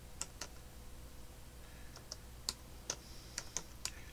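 Typing on a computer keyboard while working in MS Word: a handful of sparse, light key clicks at irregular intervals, fairly faint and close, with no talking.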